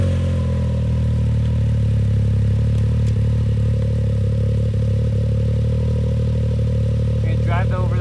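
A Can-Am Maverick X3 side-by-side engine runs at a steady idle up close, a deep continuous drone with light mechanical clatter and a brief higher rev near the end.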